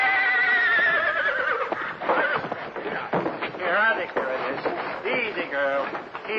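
A mare neighs loudly in the 1948 film Adventures of Gallant Bess, a long shrill whinny at the start followed by fainter snorts and whinnies mixed with voices.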